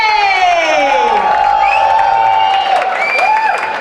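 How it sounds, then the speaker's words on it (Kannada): A crowd at a film event welcomes actor Roopesh Shetty with loud, sustained cheering, whoops and clapping that fill the hall continuously, with shouted voices rising over the din. "ಇವತ್ತು ನಮ್ಮ ಕನ್ನಡಿಗರ ಪರವಾಗಿ ಒಂದು ದೊಡ್ಡ ಚಪ್ಪಾಳೆಗಳ ಮೂಲಕ ಸ್ವಾಗತಿಸೋಣ ರೂಪೇಶ್ ಶೆಟ್ಟಿ"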